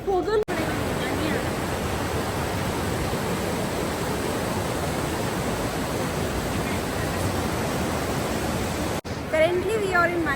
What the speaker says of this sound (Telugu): డైరెక్ట్ రివర్లోనే హాట్ వాటర్ ఫ్లో అవుతుందంట